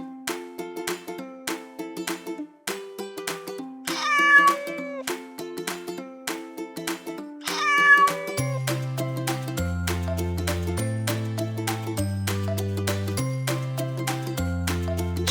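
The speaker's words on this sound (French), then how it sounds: "Chat." A cat meows twice, with drawn-out gliding cries at a steady interval, over louder background music.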